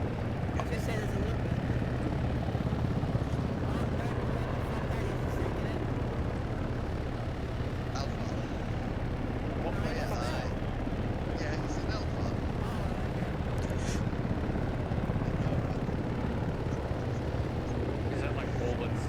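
Helicopters in the Arma 3 video game, a continuous rotor thump and engine rumble at steady volume beneath occasional voices talking over it.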